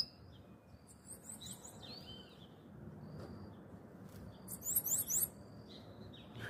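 A caged songbird, kept on a street outdoors, gives faint, scattered chirps over steady background noise, then a brighter burst of high, rapid notes near the end.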